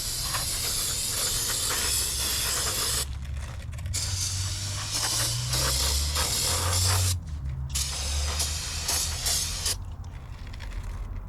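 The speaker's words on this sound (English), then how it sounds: "we're just going to get some brake cleaner and just kind of spritz this down" Brake cleaner from an aerosol can spritzed onto a part of a 1950 Dodge Meadowbrook to prep a gasket surface: a broad steady hiss of spraying in several bursts with short pauses, close and loud, with no talk.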